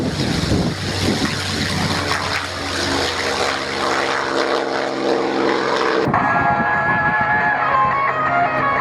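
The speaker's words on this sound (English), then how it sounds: "See the P-51D Mustang giving us a couple of passes." P-51D Mustang propeller aircraft making passes at an airshow, a loud droning engine roar with a steady low hum that cuts off abruptly partway, leaving fainter background noise and a thin tone.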